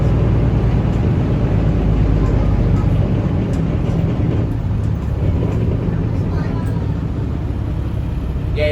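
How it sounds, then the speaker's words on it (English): A Leyland Panther bus, formerly a BT vehicle fitted with many added-on extra parts, drones along with a loud, continuous low engine rumble and whirring that fills the whole stretch without a break. "some of that whirring and gurgling is actually all the extra bits that have been added onto it"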